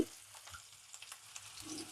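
Onions sauté lightly in a small amount of tempering oil for a mung bean dish, giving a faint, steady sizzle with occasional stirring scrapes and no talking.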